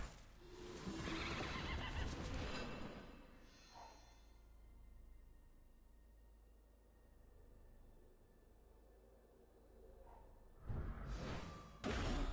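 A horse whinnies loudly at the start in a card video game, followed by a quieter stretch, then another burst of neighing and snorting near the end, sounding synthetic.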